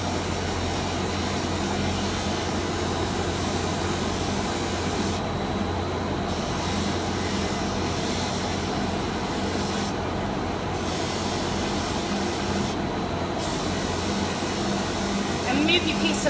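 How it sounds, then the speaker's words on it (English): A polishing machine buffs a workpiece with a loud, continuous motor whir and brushing hiss that briefly dips a few times as the piece is moved against the wheel. "you're just basically brushing your piece wherever you need it to be shined up."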